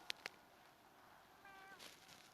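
A cartoon cat in a virtual pet game meows, with two short bright meows at the start and a longer, wavering meow later, all over a faint, steady background.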